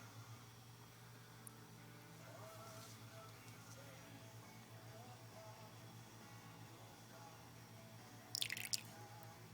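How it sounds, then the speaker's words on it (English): Water trickles and drips into the combustion chamber of an LS1 cylinder head fitted with a spark plug, faint and steady in a quiet workshop, with a brief louder splashing burst near the end. "And you just start putting the water in"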